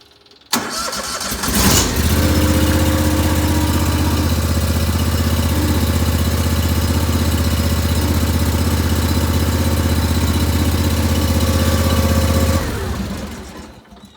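Steiner 450 tractor mower engine cranks and catches, then settles into a loud, steady close-up idle for about ten seconds before shutting down.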